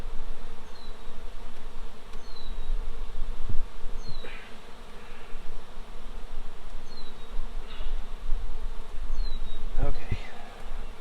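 A swarm of honeybees buzzes continuously around a beehive that has just been shifted, a steady close hum with a few bees zipping past and occasional light knocks.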